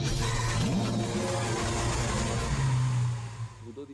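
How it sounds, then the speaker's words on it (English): A Lamborghini Aventador V12 engine revs up with a deep, rising roar that stays loud, then drops away toward the end. "The V12 motor represents what for us is the sound, the music of the car"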